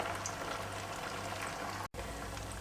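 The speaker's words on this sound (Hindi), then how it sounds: "मैंने यहाँ पे 4 कचौड़ी को फ्राई करने के लिए डाला है।" Four poha kachori frying in hot oil, giving a soft, continuous bubbling sizzle at low volume with one brief dropout near the end.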